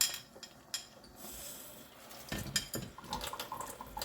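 A small scoop is rinsed under a running kitchen tap while blackberry jam is being made, with faint water noise, clinks of metal against dishes and bursts of splashing, no talk.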